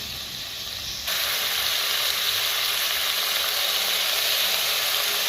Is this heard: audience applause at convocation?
no